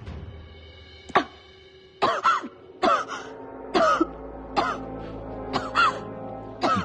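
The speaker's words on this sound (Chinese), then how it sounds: "你咳嗽又犯了。" A woman coughs repeatedly in a period drama scene, a series of sharp, harsh bursts, some doubled, spaced about a second apart and fairly close.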